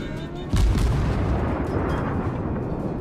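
Heavy warship naval cannons in the game World of Warships fire a deep, loud boom with a rolling rumble that lingers and decays over the following seconds.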